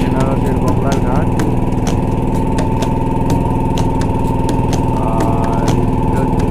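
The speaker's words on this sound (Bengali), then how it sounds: "আমাদের বোট এখন চালু হয়েছে।" A motorboat engine runs on the Ganges at Varanasi with a loud, close, steady mechanical drone and a constant rattling hum that does not change throughout.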